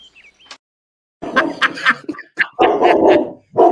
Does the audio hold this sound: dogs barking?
yes